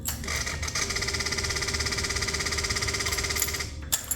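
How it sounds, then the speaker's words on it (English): A Kawasaki Ninja 300 with a faulty throttle body actuator gives off a steady mechanical buzz and whine once the key turns, holding steadily for about three seconds before cutting off, with a brief click near the end. "you can hear the noise that is coming from the throttle bodies"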